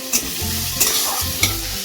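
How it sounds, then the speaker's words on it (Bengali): Chopped onions with green chillies and ginger sizzling steadily in hot rice oil, close up, with three soft scraping strokes of a stirring spoon at regular intervals. "একটু নেড়ে দিয়ে দিলাম এখানে পেঁয়াজ কুচিগুলো।"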